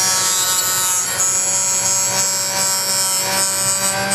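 A power saw cuts through an arrow shaft clamped in a vise, producing a loud, steady high-pitched whine that holds at an even level the whole time, close by and without talk.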